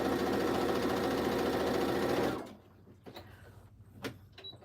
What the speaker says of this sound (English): And I like to sew right off my fabric.